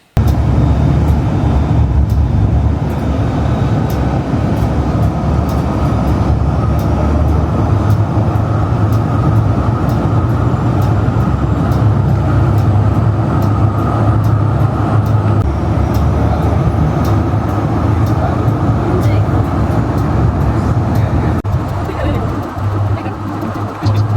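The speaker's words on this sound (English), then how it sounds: "Apparently the tram was running a bit fast, so they're actually staying at this stop for 3 minutes" A Melbourne route 75 tram sits idling at a stop, giving a loud, steady low hum and rumble of motors and surrounding street traffic throughout, with occasional faint clunks.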